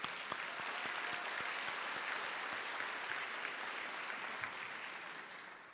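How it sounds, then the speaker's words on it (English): Audience applause breaks out at an award ceremony for a service award in Chicago, a dense, steady patter of many hands clapping at a distance that slowly fades toward the end. "And that should be applauded too."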